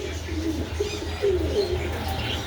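Racing pigeons, including young black racers kept in a club loft, give soft repeated cooing calls nearby over a low steady background hum.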